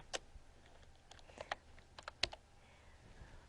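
Quiet tapping on a computer keyboard: scattered, irregular key clicks with short bursts and pauses, close but soft, no voices.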